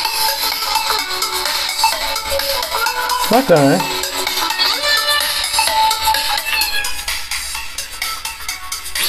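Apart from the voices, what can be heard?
ringtone played on Poco M4 Pro 5G phone speaker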